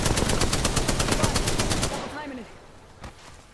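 Rapid automatic gunfire from a video game match rattles loud and close for about two seconds, then stops, leaving softer game sounds with a single later shot.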